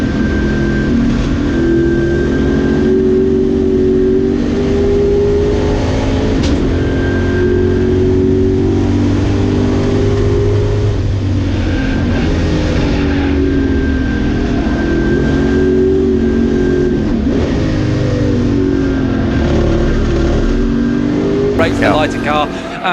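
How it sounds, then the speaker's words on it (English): Ford Mustang racing car at the Silverstone Classic, a loud continuous engine drone with shifting pitch as it powers through a wide corner, under steady race commentary. "The Mustang has the power, goes very wide there."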